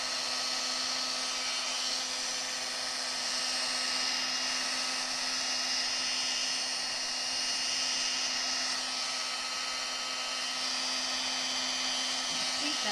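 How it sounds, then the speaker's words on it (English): Heat embossing tool blowing steadily on curled cardstock for a notecard, a constant close whirring hiss with a faint hum, no pauses. "And we'll just heat it on this side again to get that cardstock to come back from curling."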